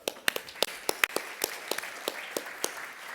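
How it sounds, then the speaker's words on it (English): A few scattered claps ring out irregularly after a call for a round of applause for utility representatives at a talk on embracing failures, sparse and thin rather than a full ovation, with no voices. "if we can give them a round of applause"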